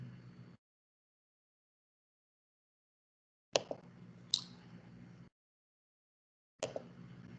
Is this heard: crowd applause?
no